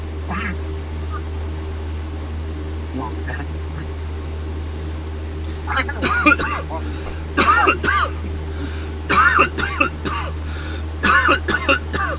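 Several rough coughs in short bursts, close and loud, following a quieter stretch with a steady low hum underneath.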